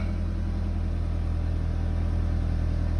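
A 1998 Mitsubishi Eclipse GS-T engine idles steadily right after starting, a close, even rumble with a constant low hum and no talking.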